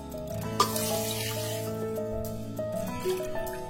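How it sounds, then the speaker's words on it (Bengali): Two tea-cupfuls of water poured into a pot while making kakhra pitha, a steady, ringing stream running for several seconds with no talk over it. "ওই কাপেরে আমি 2 কাপ পরিমাণ জল দিয়ে দেব।"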